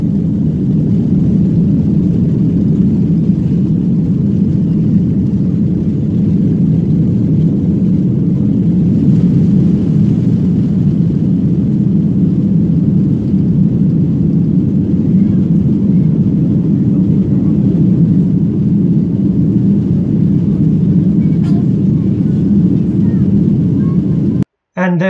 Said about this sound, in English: The plane is taking off now.